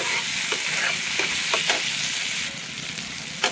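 Onion, capsicum and tomato fry in a pan with a steady close sizzle, broken by a few brief stirring scrapes and shifting slightly louder near the end.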